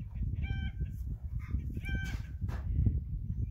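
Baby ducks and goslings moving to a larger pen give high, thin peeping calls in two short bursts over a steady low rustle and shuffling; no one talks.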